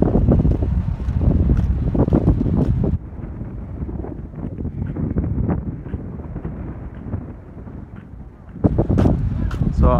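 Strong wind buffets the microphone on a road in the Gambia with a constant roaring rumble and gusty rustling throughout, heavier at the start and end.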